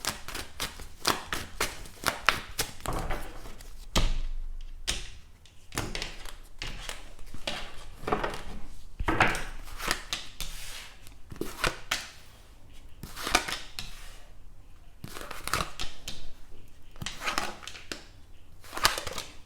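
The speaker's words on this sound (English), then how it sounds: "I want to give it a good shuffle." A deck of tarot cards is shuffled close up, giving repeated crisp riffles and soft slaps in irregular bursts with brief pauses between them and no voices.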